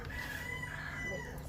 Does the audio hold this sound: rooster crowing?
yes